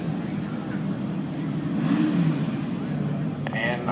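At a drag race start a Ford pickup truck and a Corvette sit at the line, engines droning and building in a steady rumbling roar while a voice talks over them.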